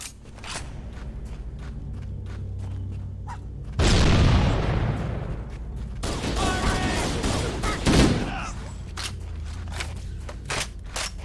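Bursts of assault rifle fire in Halo: Combat Evolved rattle in rapid volleys, with a heavy boom partway through, loud and close and mixed with other game effects.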